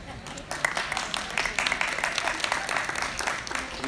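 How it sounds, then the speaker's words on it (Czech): Applause from the crowd at a Slovak village Christmas fair honouring the fair's host, a dense patter of clapping that starts faintly and grows steady and fairly close, with voices mixed in. "Dajte mu potlesk."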